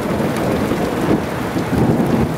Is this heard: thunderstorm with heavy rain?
yes